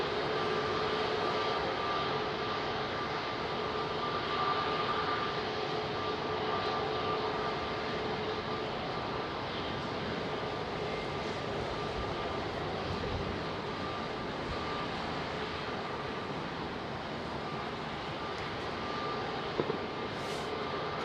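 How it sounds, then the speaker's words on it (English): A Middle East Airlines Airbus A330-200 jet departs Heathrow, a continuous loud engine roar with a whining tone running throughout, fairly even in level, with a brief click near the end. "Middle East Airlines A330"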